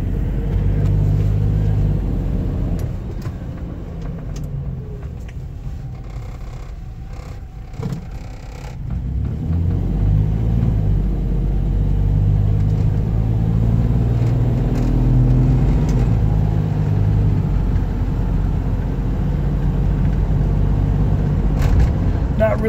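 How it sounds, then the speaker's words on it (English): A 1990 Toyota Land Cruiser with four-wheel drive engaged rolls along with a steady low engine rumble. The rumble dips briefly partway through, then resumes at an even level. "Can definitely feel the four-wheel drive engage."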